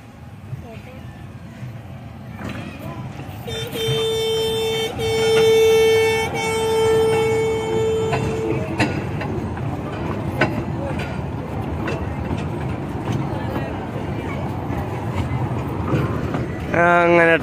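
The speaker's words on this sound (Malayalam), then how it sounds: "ഹോൺ അടിച്ച് വരുന്നുണ്ട്" A toy train at the Veli Tourist Village gives a long, loud horn blast, steady for several seconds, as it approaches. People chat throughout, and its rumbling run continues after the horn stops.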